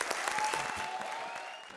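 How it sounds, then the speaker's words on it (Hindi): On a comedy show stage, a studio audience claps to welcome a comedian, a dense, even burst of applause with a few sharper claps up front, steady throughout the short stretch, with no speech heard. "तो जोरदार तालियों से स्वागत करो मेरे नए शिकार, नए पार्टनर का"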